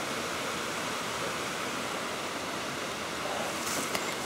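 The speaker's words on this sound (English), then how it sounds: "The water's flowing through nicely." Water rushes steadily through a channel in an overgrown, abandoned wasabi field in Japan, a broad, even close hiss with no pauses, alone apart from a faint brief knock near the end.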